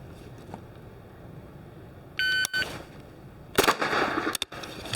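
A beep sounds, then a single sharp gunshot from a CZ Scorpion EVO 3 S1 .22 LR carbine cracks out at moderate distance over quiet outdoor background noise.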